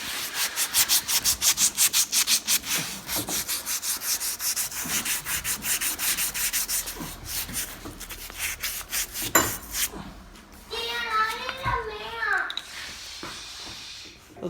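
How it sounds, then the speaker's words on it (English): Burrs and rust being polished off a shaft on a 2011 Polaris Ranger Crew, a fast rhythmic rubbing and scraping that is loud and close at first, then thins out as a voice talks near the end. "Any burrs, any rust, polish them out of the shaft."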